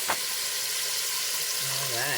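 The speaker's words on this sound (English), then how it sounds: "beautiful cuts of beef just cooking there in that beef tallow" Beef cuts searing in hot beef tallow give a steady frying sizzle throughout, with a brief clatter at the start and a voice-like tone rising near the end.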